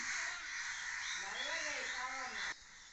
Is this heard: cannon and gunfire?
no